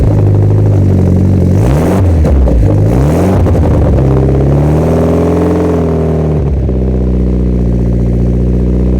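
A Mitsubishi Lancer Evo X engine on a cold start revs loudly and close up, with the pitch rising and falling through a couple of sharp revs before settling into a high, steady idle.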